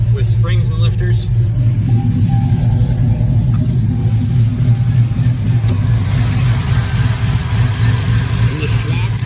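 A Chevy Colorado with an LS V8 swap, a Walbro 255 fuel pump and a stage 2 cam revs loudly and continuously up close. The deep rumble keeps surging, with voices partly heard underneath.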